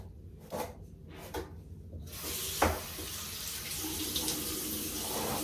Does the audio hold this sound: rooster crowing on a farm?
no